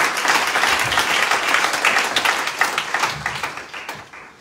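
A church congregation applauds together, a steady wash of clapping from many hands that holds strongly and then thins and fades toward the end.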